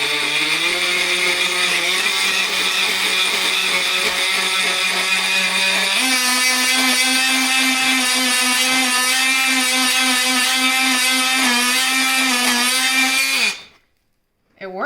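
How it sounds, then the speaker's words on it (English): A RYOBI 18V oscillating multi tool cuts through baby short ribs with a loud, steady, high buzzing whine that shifts slightly higher in pitch midway, running continuously before stopping abruptly near the end. "Instead, I'm gonna use this, the oscillating tools from RYOBI."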